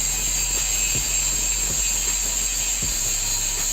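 Mailtank SH-221 cordless brushless angle grinder running steadily while grinding, a loud continuous high whine held close throughout with faint low knocks beneath.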